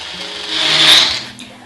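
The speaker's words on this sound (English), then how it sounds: "you'll see how fast and easy it is to blend up this delicious soup" A Tribest personal blender whirs through butternut squash soup, a bright high-pitched motor whine swelling to a peak and then easing off, close and steady with no talking.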